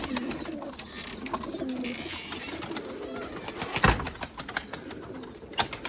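Erzurum white breeding pigeons cooing close by in a loft, soft repeated low coos mixed with rustling, shuffling and a few sharp knocks, with brief wing flutters and no talking.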